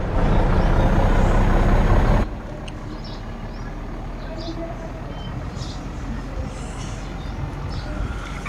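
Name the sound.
loaded truck driving, from a video game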